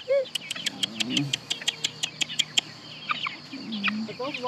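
Easter Egger chickens on a free-range flock cluck in a rapid series of sharp, close calls, with softer murmuring clucks and low throaty sounds between them.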